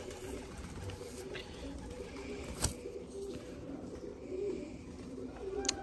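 Pigeons coo softly at a pigeon keeper's loft in hot weather, low murmuring calls repeating over steady background noise, with a sharp knock or two standing out.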